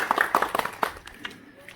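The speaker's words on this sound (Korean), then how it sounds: "우리 하정일 중앙회장님께 다시 한번 큰 박수 부탁드리겠습니다" Short burst of clapping from attendees at a Buddhist youth association anniversary ceremony, several distinct close claps that quickly thin out and fade within about a second and a half.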